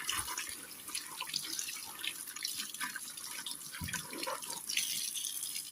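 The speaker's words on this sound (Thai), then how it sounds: "เสร็จแล้วให้เราลองทำการล้างครับคุณผู้ชมครับ ล้างด้วยน้ำสะอาดนะครับ" An old clear phone case is rinsed under clean running water, a steady close hiss of a faucet with scattered drips and splashes, no talking.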